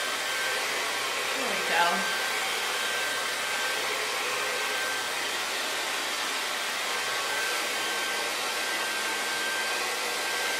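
A T-360 Smooth-air hair dryer blows a steady, close broadband rush of air at a medium setting, continuous throughout, with a brief spoken phrase near the start over the drone.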